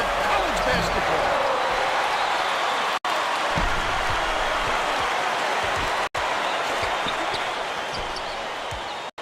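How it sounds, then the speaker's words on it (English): Roaring arena crowd in the College Basketball 2K8 video game, a loud, sustained cheer after a dunk, with sharp ball bounces and thuds mixed in and a couple of abrupt cuts. "Listen to the crowd, Vern"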